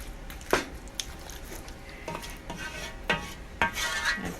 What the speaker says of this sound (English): You want to stir it really good.